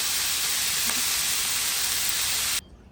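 Green chillies and chopped tomato frying in a pan for a Konkani fish curry, giving a steady, loud, close hiss and sizzle that cuts off abruptly near the end.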